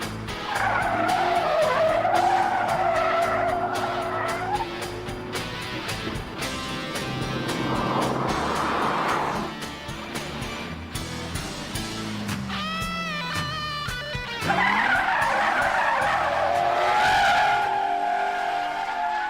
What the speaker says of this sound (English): an intoxicating blend of wheel spin with a V8 bassline